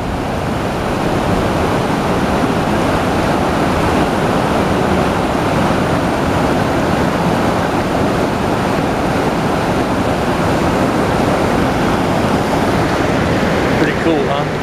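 A whitewater river near Kyburz, California rushes in a loud, steady roar of churning water that fills the whole stretch without pause, close by and unbroken.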